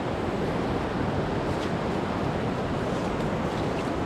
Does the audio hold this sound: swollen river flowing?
yes